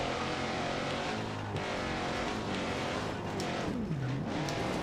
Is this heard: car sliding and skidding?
yes